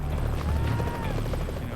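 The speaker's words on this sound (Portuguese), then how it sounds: "Repetidamente, o helicóptero é empurrado." A rescue helicopter buffeted by strong mountain winds, its rotor giving a loud, continuous close thrum with rumbling low throb, heard over a brief swell of wind.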